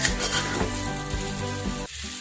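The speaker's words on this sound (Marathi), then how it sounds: "आपण छानपैकी तुपामध्ये ह्याला खमंग भाजून घ्यायचं आहे आपल्याला" Fenugreek seeds roasting in ghee, a soft steady sizzle with low stirring rumbles underneath, close and fairly quiet, fading to a thinner hiss near the end, with no talking.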